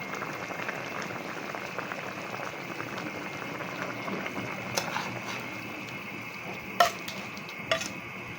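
Shrimp in coconut milk simmers and bubbles steadily in a pan, a soft continuous sizzle with a few sharper clinks of a utensil near the end.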